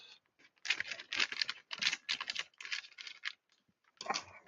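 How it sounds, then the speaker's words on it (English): A peanut snack bag is cut open across the top with scissors, several bursts of crisp crinkling and snipping, close and fairly quiet, with a short pause before a final rustle. "So I'm going to just cut the top of this thing off here now."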